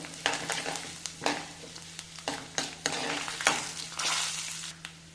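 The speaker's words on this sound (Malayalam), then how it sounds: "അരി നന്നായിട്ട് പൊടി വരുന്നു അതിന് കുറച്ച് കറിവേപ്പില കൊടുത്തു" Steady sizzling of rice and curry leaves frying in hot oil, with repeated scraping stirs and crackling bursts, close and continuous over a low hum.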